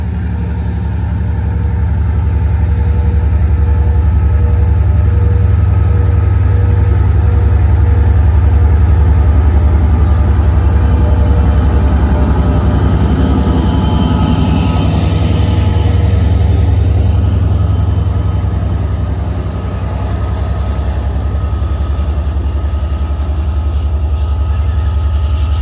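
Long Island Rail Road DM30AC diesel locomotive number 518 idling at night, a steady deep low rumble with a constant engine drone holding nearly unchanged throughout, fairly close and loud.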